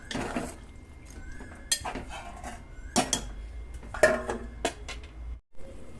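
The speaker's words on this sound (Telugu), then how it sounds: "ఒకసారి కలుపుకుందాం అంతా" A spoon scrapes and clanks around a pot of chicken curry, irregular metallic knocks and scrapes close by with no talking.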